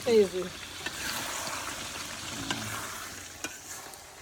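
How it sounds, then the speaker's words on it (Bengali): Meat sizzles and frying in a pan during morning home cooking, with stirring sounds and a soft continuous hiss. Faint voices can be heard in the background. "মাংস রান্না হচ্ছে"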